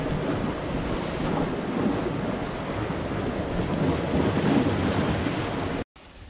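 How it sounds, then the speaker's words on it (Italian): Rough sea surf churns with foam during a storm swell on a fishing shore, a steady, dense roar of breaking waves with wind noise, continuous and close until it cuts off abruptly just before the end. "adesso si è alzato un pochino il mare, c'è un po' più schiuma"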